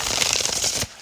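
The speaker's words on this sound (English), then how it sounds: "I'm just going to do one more shuffle." Brisk, close riffle of a tarot deck being shuffled, a quick papery flutter that stops abruptly with one soft tap after.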